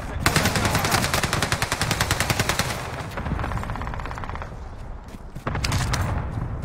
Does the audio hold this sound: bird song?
no